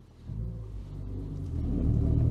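An old-school engine in a heavy, compact old French MPV rumbles low as the car pulls away, the drone rising steadily and growing louder with no talk over it.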